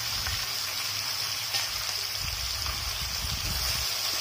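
Marinated katla fish pieces hit hot oil in a pan, making a loud, continuous bubbling sizzle with low rumbling surges and no voices.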